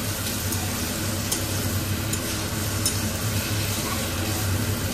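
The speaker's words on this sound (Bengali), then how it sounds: "এখন এই যে আলু ভাজা বসিয়ে দিয়েছি" Potatoes frying in hot oil, a steady broadband sizzle with occasional faint stirring clicks, close and continuous with no talking.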